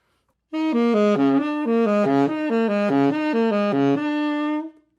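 A saxophone plays a quick up-and-down pattern of notes, ending on a sustained flat high C, solo and close.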